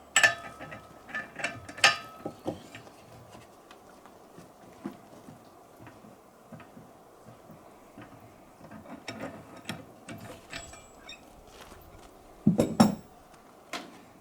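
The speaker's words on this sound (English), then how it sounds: "To start, we need to remove the prop." A prop wrench loosens and pulls the propeller off a Mercury V6/V8 outboard, giving scattered metallic clanks and ratcheting clicks, close and fairly quiet, with a sharper cluster of knocks near the end.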